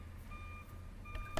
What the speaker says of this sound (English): That beeping.